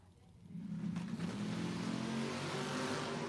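Drag race cars, among them a 67 Dodge Coronet Mopar, launch hard off the line; a sudden loud engine roar swells within a second and holds as a dense, sustained rumble with no voices.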